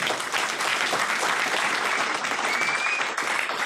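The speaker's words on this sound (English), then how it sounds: "Can we have a big round of applause for the people who's been speaking?" An audience at a UKIP political evening event in Bolton applauds the speakers, a dense, steady wash of many hands clapping together that holds evenly throughout.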